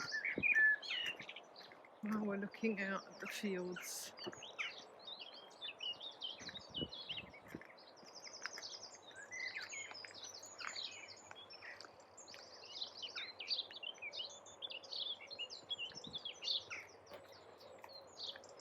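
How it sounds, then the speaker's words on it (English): Birds chirp and sing steadily in the Suffolk countryside near Kirton and Falkenham in June, many small tweets layered outdoors, while a person speaks briefly over them. "I'll let you listen to the bird song"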